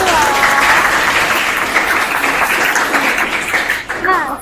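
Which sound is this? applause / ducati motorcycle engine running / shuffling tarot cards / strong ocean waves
applause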